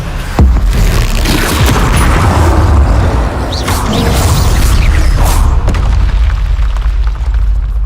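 Spell explosions from Hogwarts Legacy gameplay: a loud, sustained booming roar with repeated blasts and rumbling impacts filling the whole stretch, with no talking.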